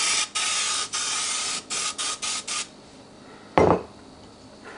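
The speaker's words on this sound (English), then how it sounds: "spraying." Cooking spray hissing into an air fryer basket before making pancakes, in several short bursts: a long spray, then about five quick puffs, followed by a brief clatter.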